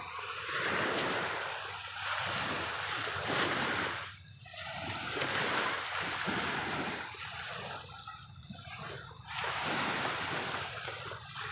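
Sea waves wash ashore at night off a Sichon beach resort with squid-fishing boats offshore, a steady rolling surf with gusts of wind buffeting the microphone, continuous and fairly close, no voices.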